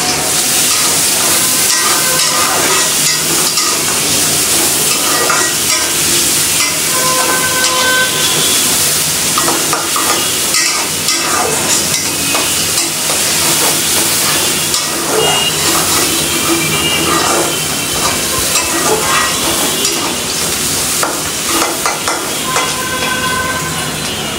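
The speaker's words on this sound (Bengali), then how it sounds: "এখন হচ্ছে শাকটা বাগার দিব।" Cooked jute leaves go into hot oil with chopped garlic and frying onion, giving a loud, continuous hissing sizzle that holds steady and close without pause.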